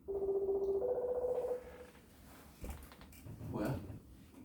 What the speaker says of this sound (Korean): 전화가 왔어?